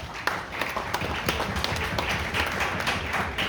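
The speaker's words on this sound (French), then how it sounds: "Mes amis, applaudis MCFDF." Scattered clapping from an audience at a Haitian ministerial event, uneven and moderately loud with distinct individual claps rather than a full ovation.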